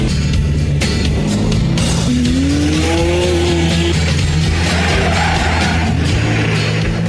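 Race cars climbing the Montvernier hairpin road, engines revving hard and rising in pitch through the bends, with loud continuous exhaust roar close by and overlapping cars.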